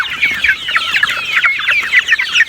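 Two-month-old Rhode Island chickens on a farm cluck and chatter in a busy, overlapping stream of close, fairly loud calls.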